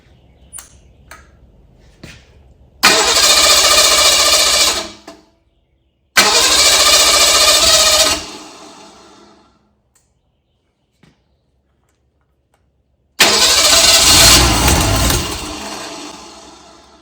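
A 1964 Ford Galaxie engine on a run stand with a stuck choke cranks and fires in three loud bursts, each roaring for a couple of seconds before cutting out, with a few faint clicks beforehand and quiet gaps between attempts.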